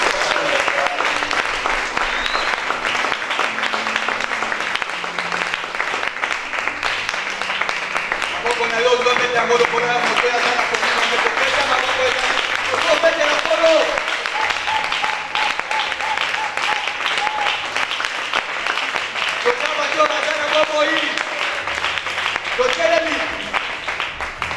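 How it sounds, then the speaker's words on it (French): Church congregation clapping loudly and steadily, a sustained dense wave of applause with some cheering voices and music rising through it, continuing without a break. "On acclame très fort pour le Seigneur."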